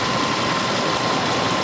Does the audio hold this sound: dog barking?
no